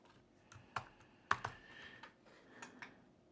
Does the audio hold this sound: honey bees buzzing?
no